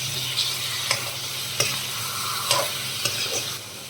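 Brinjals fry and get stirred in a hot pan, giving a steady sizzle broken by several sharp scraping clicks of the spoon against the pan at close range, with no talking.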